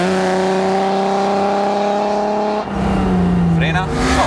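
Alfa Romeo GTV6 under a brake test on a hot day, its engine droning steadily at speed, then a sudden drop in engine tone as the car slows, with a short tire squeal and a voice speaking over the car noise.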